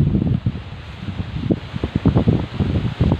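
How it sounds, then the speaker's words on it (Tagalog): Gusty wind buffets the microphone in uneven low rumbling bursts, with leaves of a fruit-laden dalandan (sour orange) tree rustling throughout; no one speaks. "Malakas ang hangin dito mga boss."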